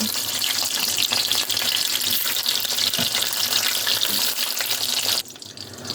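Loud, continuous sizzling of tomatoes frying in oil, dense crackling hiss that drops off sharply near the end.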